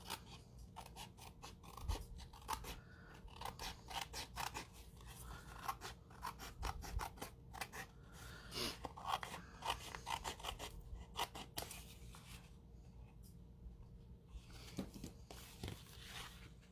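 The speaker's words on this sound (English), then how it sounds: "I'm going to take my scissors and I'm just going to cut it along the edge here" Scissors snip repeatedly along the edge of a craft piece, a close, quiet run of crisp cuts in an irregular rhythm over faint background hiss, with no talking.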